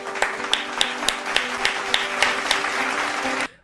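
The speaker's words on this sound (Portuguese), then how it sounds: "Salva de palmas" Rhythmic clapping sounds in a steady beat of about a dozen sharp claps, close and fairly loud, over a sustained hum before stopping abruptly.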